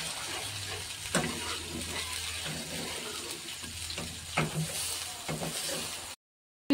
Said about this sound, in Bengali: এবার গরম জল করে রেখেছিলাম অল্প করে দেব